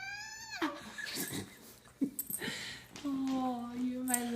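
A Jack Russell puppy gives a long, squeaky, rising-and-falling yawn close by, followed by a few small whines and a drawn-out vocal yawn, with a person talking softly in between.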